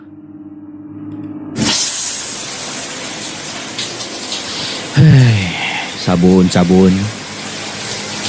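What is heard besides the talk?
shower running, sound effect in a radio story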